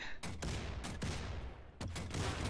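Bursts of gunfire in the Wolfenstein II video game, several loud close shots in quick succession with short gaps between volleys, no talking.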